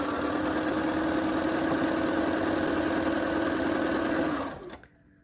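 A sewing machine stitches quilt pieces with a fast, steady mechanical hum and whir that runs continuously and close up, then winds down and stops near the end, leaving silence.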